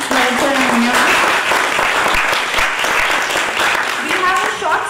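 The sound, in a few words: audience applause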